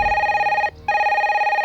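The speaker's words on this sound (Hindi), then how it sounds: "जब भी इस फोन की घंटी बजती है" A telephone bell rings with a sustained, tinny electronic tone, cut by one brief gap before it resumes, clear and close.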